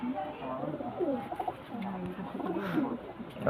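Pigeons coo in low, soft, repeated murmurs throughout, close by, with steady bird vocal sounds filling the short stretch.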